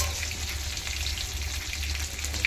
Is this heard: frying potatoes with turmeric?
yes